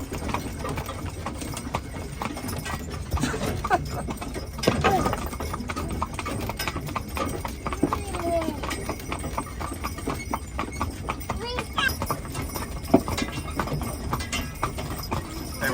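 Haflinger horses pull a wagon on a rainy winter outing, hooves clip-clopping in a steady rhythm close by, with wagon rumble beneath and a person talking at times.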